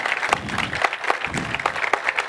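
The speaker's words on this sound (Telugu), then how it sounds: "చప్పట్లు తట్టండి అయ్యా." An audience at a health talk breaks into applause, a dense patter of many hands clapping nearby for a couple of seconds.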